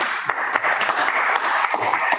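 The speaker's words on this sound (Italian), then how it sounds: "non possiamo che fare un grande applauso" Applause from an audience at an irrigation day ceremony marking the opening of the LEB canal gates: dense, continuous clapping with a few sharper individual claps standing out.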